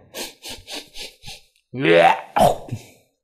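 A person's voice imitates a phlegmy hawking cough: a run of five short, rhythmic nasal snorts, then a loud, raspy throat-clearing hack and a shorter follow-up.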